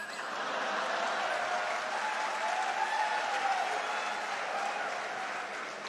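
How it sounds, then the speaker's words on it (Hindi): Steady wave of audience applause at a Hindi comedy show, dense crowd clapping that holds at an even level throughout with a light murmur of voices in the mix. "व्यंग पर तालियां तो अब आपकी अब उठेंगी"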